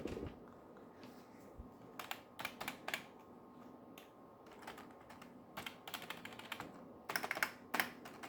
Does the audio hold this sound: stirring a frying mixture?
no